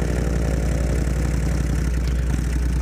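A 1997 Kawasaki Vulcan 1500 motorcycle engine runs steadily on a dirt road, a loud continuous low rumble with an even throbbing pulse, close up and with no voices over it.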